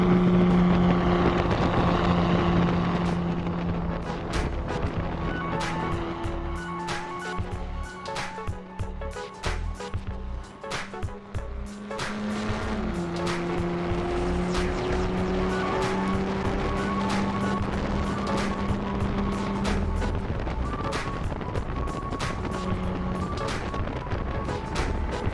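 Drift cars at Watkins Glen during a GRIDLIFE event, engines droning loudly with shifting pitch and sustained revs, sharp intermittent pops and clicks throughout, over wind buffeting on the microphone, with no talk.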